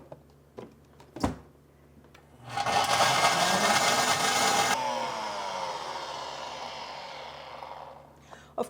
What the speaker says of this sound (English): And we simply blend.